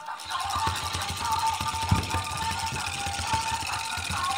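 A vibrating musical toy ball buzzes and rattles continuously nearby, with a hum like a small motor and faint irregular knocks, plus a soft tone above.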